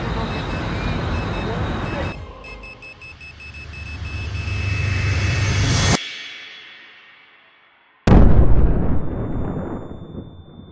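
A bomb device exploding, a sudden loud blast with a broad burst that cuts off abruptly, following a rumbling build-up, then another heavy boom after a brief silence.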